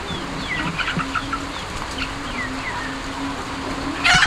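Ducks at feeding time in a loft, chirping and clucking calls scattered over steady rain-like background noise, with a brief burst of flapping or scraping near the end.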